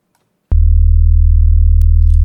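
A loud synthesized sine-wave sub bass chord, root note plus a semitone and a fifth above, enters abruptly after a brief silence and holds as a steady deep drone with faint clicks, no voices.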